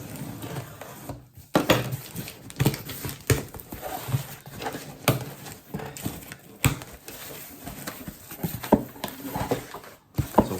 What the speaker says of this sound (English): The pan lifter, they're really handy.